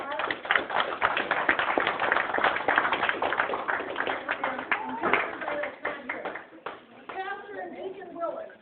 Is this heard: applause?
yes